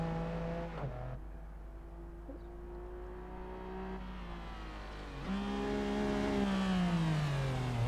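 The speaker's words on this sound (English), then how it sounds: "And the engine just sounds amazing." A Honda NSX in Assetto Corsa howls around the Imola circuit, its engine note climbing steadily, dropping sharply with a gear change near one second and again after five seconds, then rising loud and sustained toward the end.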